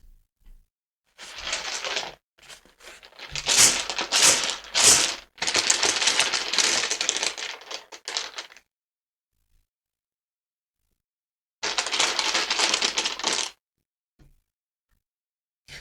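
Dice rattle and clatter in quick bursts across a hard surface during a crystal ball and tarot reading, with a long busy run of rolling and a shorter second roll after a pause.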